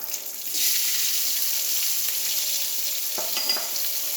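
Sliced onion frying in oil for an okra and tomato curry, a loud hiss that swells as the onions hit the pan and then stays steady, with a few light stirring clicks near the end.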